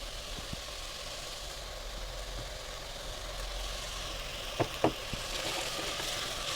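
Broccoli, mushroom and sweet corn frying on a high flame, a steady close sizzle with a few sharp clinks of stirring near the end.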